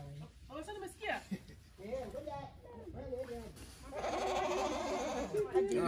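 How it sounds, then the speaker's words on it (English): Goat bleats mingle with nearby voices talking, with a louder, raspy bleat near the end over background noise. "What sound do goats make again?"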